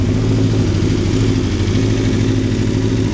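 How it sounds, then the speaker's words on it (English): An Aprilia Tuono V4 Factory motorcycle with an Akrapovic exhaust idling close by, a loud, steady, throbbing engine rumble that holds even throughout. "Yes, we've run the bike up."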